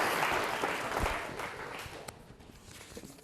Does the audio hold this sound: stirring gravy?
no